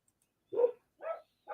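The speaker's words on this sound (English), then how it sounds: "Bloody dogs." Dogs give three short, separate barks spaced evenly apart, each clear against silence, with no talking in between.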